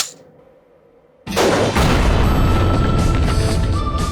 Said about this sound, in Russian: Окей, автомат. Один выстрел.